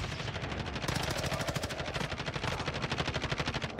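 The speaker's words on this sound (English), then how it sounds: "Is that a minigun?" Minigun in the video game Call of Duty: Warzone firing a continuous, very rapid stream of shots that stays loud and close for the whole stretch, with no talking over it.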